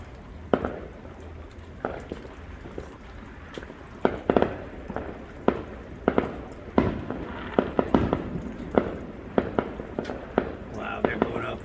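Fireworks mortars shot off at a family fireworks show, a series of sharp bangs and crackling bursts at irregular intervals, some near and loud, others farther away, with people talking and whispering throughout.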